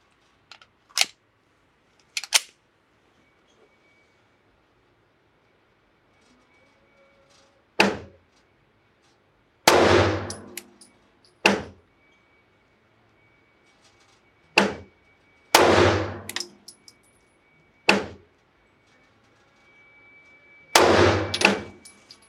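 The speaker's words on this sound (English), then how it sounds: "I'm shooting 3-round groups. I'm going to shoot with the Hellcat Pro next" Sharp, echoing pistol shots from a Hellcat Pro fired in small groups of about three, each crack loud and isolated with quiet gaps between strings, no voices.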